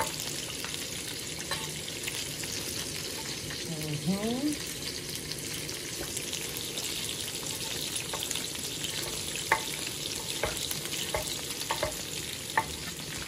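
Sweet pepper frying for Jamaican ackee and chicken back, a steady close sizzle with scraping stirs and a few sharp clinks, and a brief murmured voice over it.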